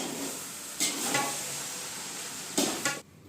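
A cooked rice mixture with Maggi noodles being stirred in a pot, a quiet background hiss broken by a few sharp scraping and clinking strokes of a spoon against the pot.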